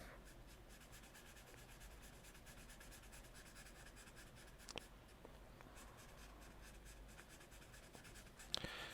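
Graphite pencil scratching and rubbing steadily on paper during a hyper-realistic portrait sketch of a statue, a soft continuous close-up texture with a few faint taps.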